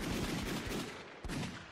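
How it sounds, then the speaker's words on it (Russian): Rapid video game gunfire rattles through a Minecraft superhero battle, dense bursts of shots blurring together with a brief dip before resuming, loud and close. "Последний выстрел был за мной."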